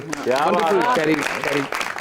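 A television studio audience applauds on a Pakistani comedy talk show, with steady dense clapping running through most of the two seconds while someone speaks loudly over it.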